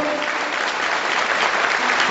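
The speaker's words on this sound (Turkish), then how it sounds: "Alkışlarınızla" Steady, dense applause from a large audience at a political support event in Istanbul, continuous and loud throughout without a break.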